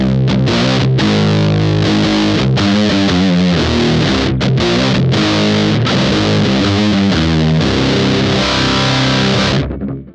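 Electric guitar played through a Lichtlaerm Altar distortion pedal with the mids control turned down, giving a loud, saturated, mid-scooped tone of sustained chords and riffs with brief gaps, ending in a fade.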